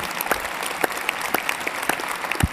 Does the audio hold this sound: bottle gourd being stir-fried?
no